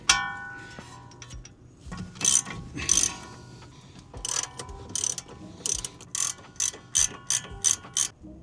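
A hand ratchet reinstalls a bolt on a van's wheel hub, first with a few clunks of metal, then a run of evenly spaced clicking ratchet strokes, close and clear.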